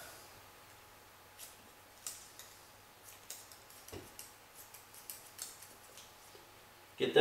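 Cutters snipping through rope strands during a windlass rope splice, a series of small sharp clicks and snips at irregular intervals, quiet and close with no talk.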